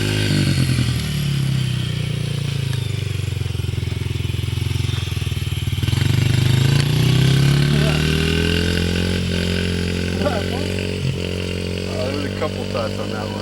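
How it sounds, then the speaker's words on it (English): A dirt bike engine drones steadily close by, its pitch rising and swelling mid-clip as the rider speeds up, with people talking over it throughout. "Oh, dirt bike riding."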